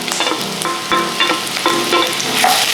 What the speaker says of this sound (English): We'll fry for about a minute or so until it's a bit translucent. Then we add in the garlic.